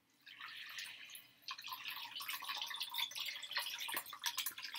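Homemade milk paint is poured into a strainer lined with a paper towel, making a faint, steady trickling and splashing that swells partway through and carries on with small drips.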